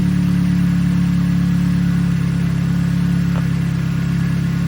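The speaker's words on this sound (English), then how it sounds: "now that you got the car started" A car engine idles steadily after being started, a loud, even low hum with no change in pitch, close by and alone with no talk.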